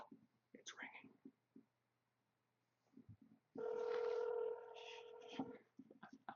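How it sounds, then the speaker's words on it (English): A telephone rings on an outgoing call, one steady tonal ring burst lasting about two seconds, with quiet whispered talk before and after it. "It's ringing."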